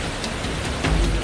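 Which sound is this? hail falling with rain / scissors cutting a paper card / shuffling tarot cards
hail falling with rain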